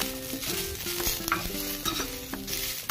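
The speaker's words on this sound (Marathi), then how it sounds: "कांदा चांगला लालसर भाजला गेला की त्यामध्ये मी घातला 1 टोमॅटो. तो सुद्धा छान परतून घ्यायचा आहे." Onion and tomato being sautéed in oil for katachi aamti, a fairly quiet continuous sizzle with stirring scrapes, over a steady tonal hum in the background.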